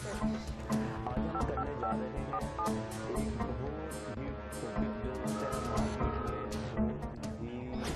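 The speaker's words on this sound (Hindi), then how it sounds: "फोन उठाइए और हमें डायल कीजिए" Telephone keypad tones from a number being dialed in a Hindi crime drama, a rapid run of short beeps over a busy musical background, steady and fairly loud with no speech.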